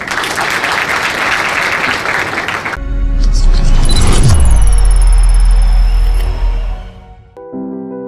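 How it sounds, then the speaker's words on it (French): An audience at a televised African awards show breaks into dense, loud applause, which then gives way to swelling music and fades out. "Applaudissez."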